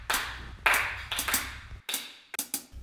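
Sharp, resonant claps or taps in a jive practice rhythm, a handful of distinct hits with short gaps and uneven spacing, close and fairly clear with no talking.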